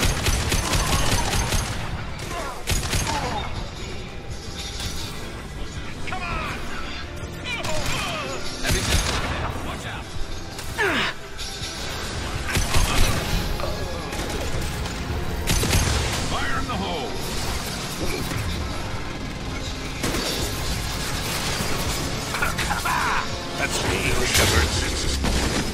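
Dense, continuous gunfire and mechanical booms from a giant robot in Mass Effect 2 rattle on throughout, with rapid bursts and heavy impacts layered under occasional talk.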